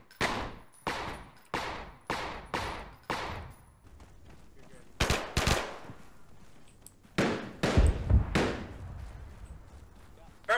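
Machine gun fire in the military shooter ArmA3, sharp bursts of shots in a quick series, then louder separated cracks and a further cluster of rounds, close and loud, with voices nearby.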